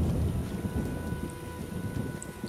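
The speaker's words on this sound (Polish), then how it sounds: "Dobra, mamy burzę." Steady thunderstorm rain in The Witcher video game, a dense hiss of falling rain with a low rumbling wash underneath and faint scattered drops, continuous and alone without speech.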